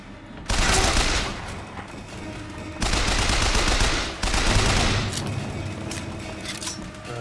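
Machine gun fire in the video game Bioshock Infinite, heard as three loud, dense bursts of rapid shots separated by short pauses, with a lingering rumble between them and no speech.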